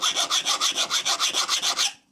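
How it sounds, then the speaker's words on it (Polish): Metal file rasping across a knife blade during sharpening, about a dozen quick even strokes in steady rhythm, close and fairly quiet, then stopping. "nie słychać, żeby ten pilnik całkowicie mocno się wgryzał w metal"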